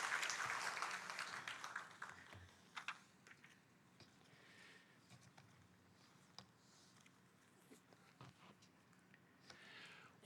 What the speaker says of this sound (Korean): 우리 함께 축하의 박수 하십시다